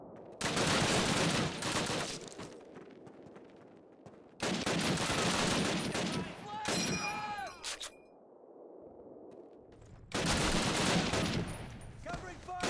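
Heavy automatic gunfire in Call of Duty, coming in loud sustained bursts with pauses between them, mixed with clinks and battlefield noise during a platoon assault on buildings.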